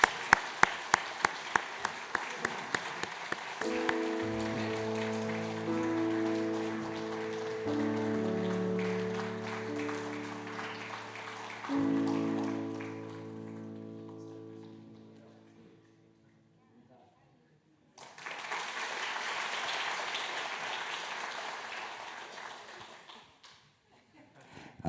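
Church congregation applauding at a Sunday service, an irregular burst of clapping that swells, fades, and returns while a person speaks and organ-like sustained tones play beneath.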